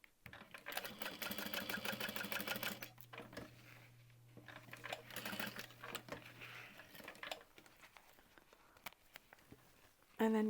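A sewing machine stitches a small locking rectangle on a handbag, running in a steady rapid burst for about three seconds, then continuing in shorter stretches with a sustained low hum. Handling clatter follows, and a person speaks nearby.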